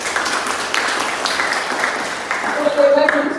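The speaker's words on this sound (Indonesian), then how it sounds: "kita berikan hadiah tepuk tangan" Applause from a training classroom during a teaching practice session, a brief burst of clapping that continues steadily and fairly close for a few seconds.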